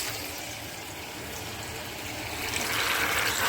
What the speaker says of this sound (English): Add a splash of white wine,